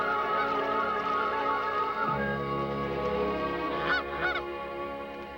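A Canada goose, a female among Canadas, honks a few loud, nasal calls close by, rising over a low background hum before trailing off.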